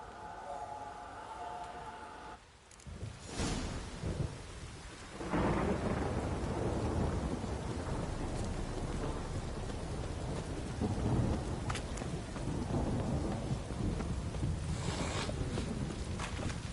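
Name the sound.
rain and thunder in a video game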